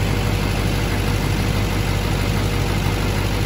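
A Duramax LMM diesel pickup engine idling, a loud, steady, close low rumble that stays unbroken throughout, with no voices.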